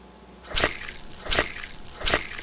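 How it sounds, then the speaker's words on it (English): A slime splash sound effect plays three times at even intervals, each a short wet splatter over quiet background hiss. "We'll try slime splash, see what happens."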